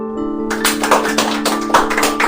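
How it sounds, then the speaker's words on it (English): Hands clap in a quick series of crisp, closely spaced claps over soft, sustained background music. "Clap."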